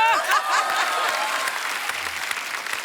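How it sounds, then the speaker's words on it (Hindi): Studio audience clapping on a Hindi TV comedy show's Christmas special, dense, steady applause with a little crowd murmur and light laughter, filling the whole moment without any speech. "ये तो प्यारे लोग हैं, हर बात पे वैसे ही ताली बजाते हैं।"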